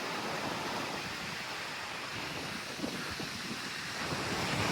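Black Sea surf rolling onto Odessa beach, a steady broadband wash of waves with north wind buffeting the microphone throughout, fairly close and continuous with no voices.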